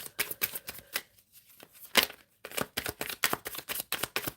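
Tarot cards being shuffled by hand, a run of crisp riffling bursts and soft slaps close up, with a brief pause midway before the rapid shuffling resumes.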